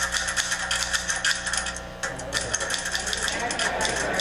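A typewriter being typed on: a rapid, continuous clatter of key strikes with metallic rattling, steady and fairly close, heard on its own.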